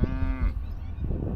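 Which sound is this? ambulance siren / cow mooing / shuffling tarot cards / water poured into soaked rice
cow mooing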